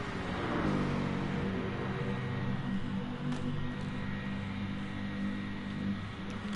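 Race car engines roar steadily in the GT Sport video game, a sustained mid-pitched drone with slight revving shifts, loud and continuous without speech.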